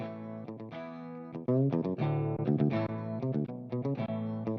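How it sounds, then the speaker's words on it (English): Guitar runs through a Donner Arena 2000 multi-effect pedal and amp modeler with a tube compressor added, playing a lively riff of clipped chords and single notes with an even, punchy, slightly distorted tone. "I'm going to put a compressor in"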